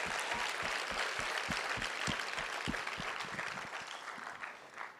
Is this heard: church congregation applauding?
yes